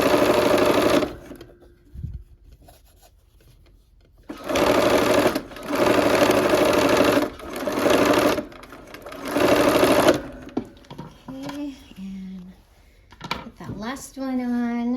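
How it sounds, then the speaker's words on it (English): A sewing machine stitches maple leaf pieces onto the ends of quilt border strips in several loud, steady runs separated by short pauses, with a voice talking near the end. "sew these maple leaves to the ends of those border strips"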